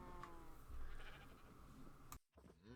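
A sheep in the video game Minecraft bleats in one long, wavering call that ends abruptly, followed by a brief silence and the start of another bleat.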